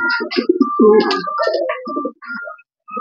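A racing pigeon coos close up in short, throaty bursts with brief pauses between them, ending in a near-silent gap.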